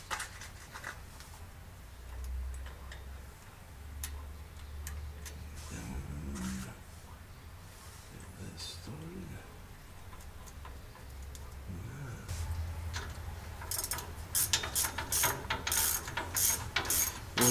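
A gear-making machine indexes its workpiece around to the next gear tooth, giving a soft mechanical whir followed by a series of ratcheting clicks and ticks that grow busier toward the end, fairly faint and with no voices.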